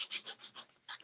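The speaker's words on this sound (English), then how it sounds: "I want to grab some sandpaper, and then we're just going to start distressing." Sandpaper rubs back and forth over a painted wooden frame to distress it, giving about six quick, close, hissing scrapes in an even rhythm.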